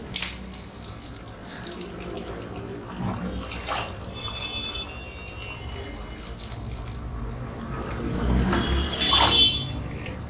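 Water runs steadily from a tap into a container, a continuous close splashing flow that grows a little louder toward the end, with faint voices in the background.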